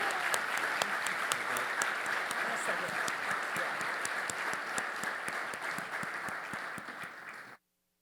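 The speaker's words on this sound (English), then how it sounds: "let's give our panelists a big round of applause." Audience at an annual meeting applauding panelists on stage, dense steady clapping from a large crowd that fills the room for about seven seconds, then stops abruptly.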